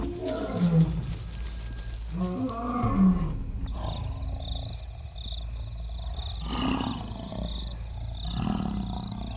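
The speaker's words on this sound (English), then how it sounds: "With a roar that resonates for 8 kilometers over the plains, their presence is heard even where it can't be seen." A lion roars on open plains in a series of deep, resonant calls, loud and close, rising and fading in waves with grunting breaths between them.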